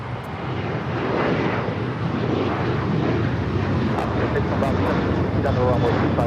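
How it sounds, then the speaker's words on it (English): United Airlines Boeing 737-900ER jet taking off from runway 25 right at LAX, bound for Las Vegas: a loud, steady broadband engine roar that holds for the whole stretch, with a faint voice briefly over it. "United Airlines 2449 taking off to Las Vegas on the 737-900ER"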